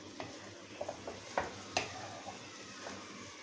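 Egg shami kebabs being mixed as they fry in a pan, a soft constant sizzle broken by a few light scrapes and taps of the utensil.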